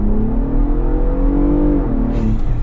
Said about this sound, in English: and of course full throttle